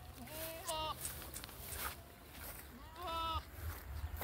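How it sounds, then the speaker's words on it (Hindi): Goats at a goat farm bleat in two wavering calls, one early and one later, close by over low background murmur and a few footsteps. "दूसरा बकरा आ रहा है।"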